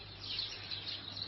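Birds chirp outside an open window, a faint, light scatter of tweets carried on quiet room air, with no one speaking.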